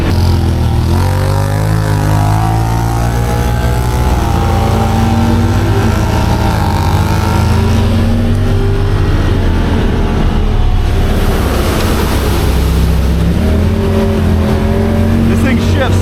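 Off-road vehicle on a night trail ride, its engine loud and close as it revs hard, with quick gear shifts marked by pitch drops and climbs, while someone talks over the roar.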